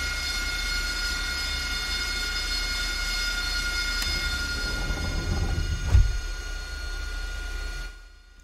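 A steady jet engine whine from an AV-8B Harrier II in Microsoft Flight Simulator, with a high tonal hum and low roar, swelling briefly near the end before cutting off abruptly.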